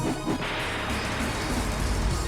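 Punch impact effect from the visual novel Higurashi When They Cry, a heavy smash of a blow to the head, landing over a dense, steady noisy bed with no voices.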